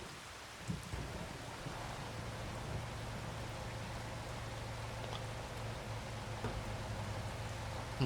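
Steady rain falls on a farm in the Farming Simulator 25 video game, an even, continuous hiss of drops with a low rumbling undertone throughout and no one talking.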